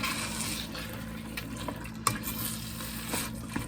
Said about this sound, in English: I also have 1 8-ounce can of tomato sauce I'm going in with. Let's give that a stir